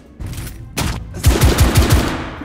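Rapid gunfire in the video game The Order: 1886, a few loud sharp shots followed by a quick rattling burst of automatic fire, close and punchy with no talk.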